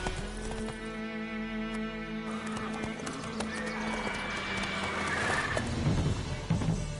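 A ridden horse: rhythmic hoof clip-clops close by and a drawn-out whinny, heard clearly against light background noise.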